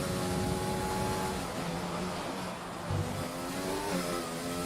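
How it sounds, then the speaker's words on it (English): A race car in a video game accelerates out of the last corner at Monaco, its engine note climbing steadily through the gears, moderately close and continuous with no talk over it. "accelerating out of the last corner and going into his flying lap"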